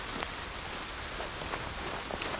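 Steady rain patters in the survival video game The Forest, a soft continuous wash of drops with a few faint splashes standing out, heard alone.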